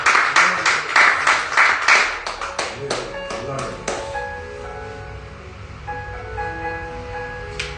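Congregation at a Pentecostal church service applauding with rhythmic, loud clapping for several seconds, then thinning out under sustained tones and a voice speaking.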